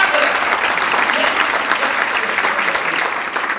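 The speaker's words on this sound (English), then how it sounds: "Can we give them a round of applause?" An audience at the Portland State University Elevating Impact Summit gives sustained applause, a full, even roar of clapping that carries on without a break.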